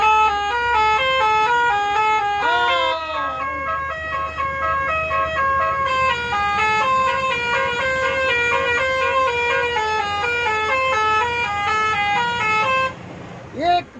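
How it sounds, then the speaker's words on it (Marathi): A long musical horn on a Thane–Malvan travel bus plays a repeating multi-tone melody, loud and close, for about thirteen seconds over a low engine rumble before it cuts off. "नागिनचं हॉर्न."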